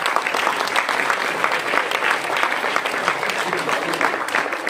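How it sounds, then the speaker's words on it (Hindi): An audience claps at an indoor award ceremony honouring a woman, a dense, steady applause that carries on evenly for several seconds at close range, with voices faintly mixed in. "ताली बजाना इनके लिए, मैडम के लिए।"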